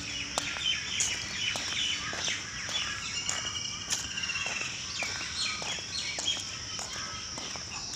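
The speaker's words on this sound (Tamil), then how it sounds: "பல மயில் சத்தம், பறவை சத்தம்" Many birds, including several peacocks, call and chirp across a dawn chorus in a forest, layered, overlapping song at moderate distance with steady background hum.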